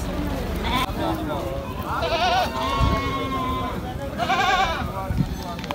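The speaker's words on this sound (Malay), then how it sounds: "Nah, ini ada biri-biri ya, biri-biri jantan yang sedang berada di gelanggang kambing." Male sheep in a goat and livestock market ring give several loud, wavering bleats, one after another, over a busy background with people talking nearby.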